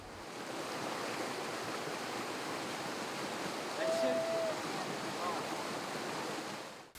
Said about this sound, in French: voilà un spectacle sublime, une cascade unique dans son genre